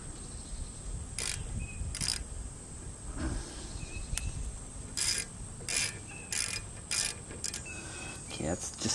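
A ratchet wrench clicks in short bursts while the brake caliper bolts are tightened on a 2009 Jeep Patriot, with a quiet garage background and brief gaps between turns.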